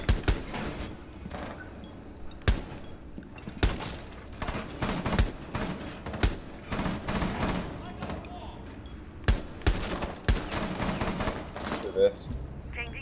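Bursts of video game gunfire crack in rapid volleys and single sharp shots, loud and close, scattered irregularly across the stretch with brief gaps between firefights.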